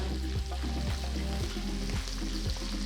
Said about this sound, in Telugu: రెండు సన్నగా తరిగిన ఉల్లిపాయ ముక్కలు కొద్దిగా కరివేపాకులు వేసి వేయించుకోవాలి